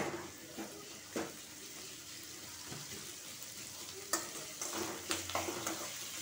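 Two chopped onions fry in a pan for cabbage curry, a quiet, steady sizzle broken by a few scattered spoon taps and scrapes, close but faint, with no talking.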